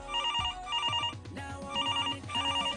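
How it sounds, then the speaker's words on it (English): Office telephone bell ringing in repeated electronic trill bursts, two rings close together, clear and alone with no voices. "Answering the phone at work."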